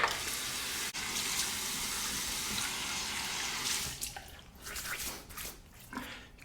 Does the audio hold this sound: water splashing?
yes